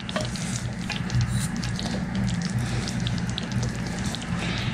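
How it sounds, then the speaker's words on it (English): A spoon or whisk stirs pandan honeycomb cake batter in a bowl, a steady wet sloshing churn running continuously at close range with no pauses and nobody talking. "we are going to mix this going one way again, just to make sure we get everything nice and wet"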